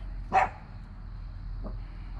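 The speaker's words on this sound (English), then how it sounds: "What are y'all barking about?" Dogs bark outdoors at night during brake work on a BMW 435i, with one loud, close bark near the start and a fainter single yelp about a second later over a low background hum.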